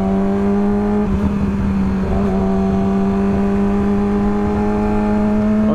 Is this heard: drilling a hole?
no